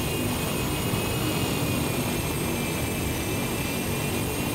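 Fokker 50 turboprop airliner engines in the X-Plane 11 flight simulator, a steady loud broadband engine roar with a whining drone, continuous and unchanging throughout with no talk.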